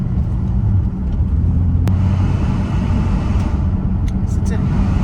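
A BMW E30 fitted with a 1999 S52 engine from an M3 drones steadily from inside the cabin on a test drive, a loud low rumble of engine and road noise with a sharp tick and faint squeaks.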